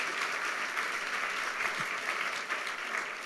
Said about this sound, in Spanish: Dele fuerte el aplauso al Rey.